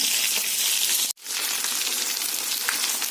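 Chicken pieces fry in a hot pan with a steady, loud sizzle and crackle throughout, broken by one brief gap partway through.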